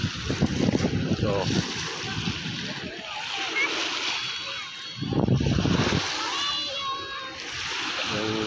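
Sea waves splash and wash ashore at Manila Bay's Dolomite Beach, a steady rushing surge with louder bursts, while voices, including a child's, talk over the surf and wind.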